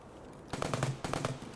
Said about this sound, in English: Obviously there's some gunfire going on